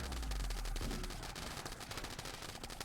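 Centipede mechanoids fire in Rimworld, producing a rapid, dense rattle of shots that runs steadily for a few seconds, loud and close, with no talk.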